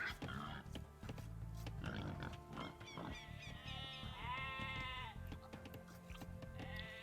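Sheep bleat in a strategy game match, a clear wavering animal call rising over a dense bed of in-game music and effects, with other layered game sounds throughout.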